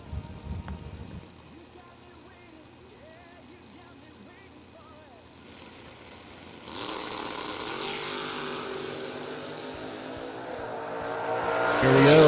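Drag race cars, a wheel-standing S10 and a Camaro, launch and roar down the track at a Florida season kick-off event, starting under a track announcer's talk and swelling into a loud sustained engine roar that keeps building.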